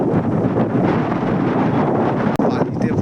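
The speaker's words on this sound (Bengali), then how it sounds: "ব্রহ্মপুত্র নদীর বেডের ওপরে প্রচুর হাওয়া" Strong wind over the sandy Brahmaputra riverbed at Chanaka, Morigaon in Assam, a loud, continuous buffeting roar across the microphone, with a brief dropout near the end.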